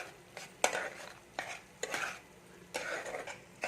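Moong dal masala being stirred in a pan, a spoon scraping and clinking in bursts against the metal with a soft sizzle between strokes, close and moderately quiet.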